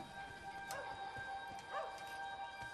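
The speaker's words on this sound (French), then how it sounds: "Un chien." Dog barking in the video game Wolfenstein: The New Order, two short distant barks spaced about a second apart over faint ambient background hum.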